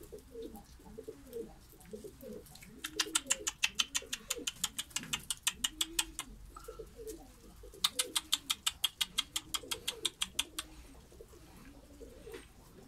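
Ankara pigeons coo in a steady, repeating rolling rhythm, close and soft, while two runs of rapid fluttering clatter break in over the cooing. No one speaks.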